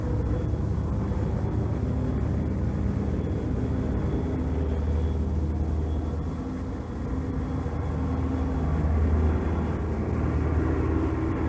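A steady, unbroken drone of the Enola Gay's propeller engines as the bomber flies its bomb run at 31,000 feet over Hiroshima, with a constant low rumble and no voices.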